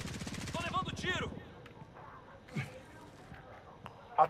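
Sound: gunfire in Call of Duty: Modern Warfare video game

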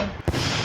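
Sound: explosion in a video game

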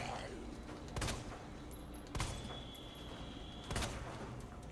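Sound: gunfire in video game Resident Evil 2 Remake

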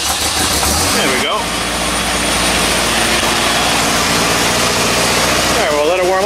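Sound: classic sports car engine idling

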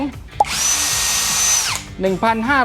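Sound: OSUKA OCD701D1 cordless battery drill running at speed 2

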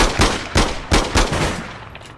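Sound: gunfire in video game APB Reloaded

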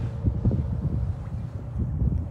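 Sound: wind

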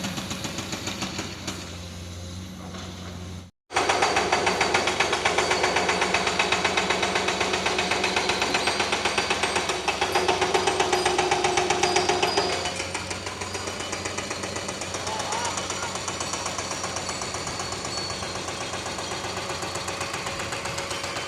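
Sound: construction noise

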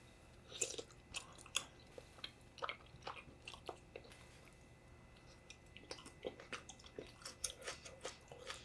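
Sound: chewing beans in malatang

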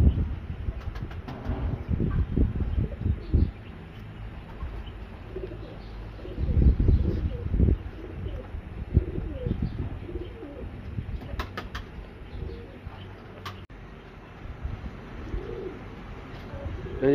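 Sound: Chapra pigeons cooing

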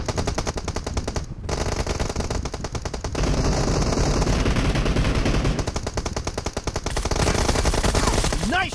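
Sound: gunfire in the video game PUBG Mobile

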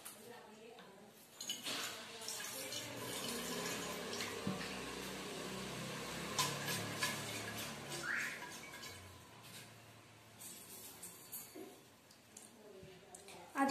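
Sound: washing a bottle with cold tap water

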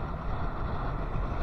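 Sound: strong wind on the seashore during a storm

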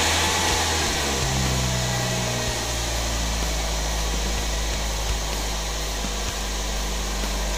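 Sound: car engine being started

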